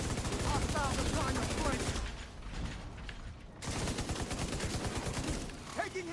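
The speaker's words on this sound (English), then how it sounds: "Taking heavy fire." Heavy automatic gunfire in a team-based shooter video game, loud dense rattling bursts that drop to a lull midway and then resume at full intensity, with voices talking over the fire.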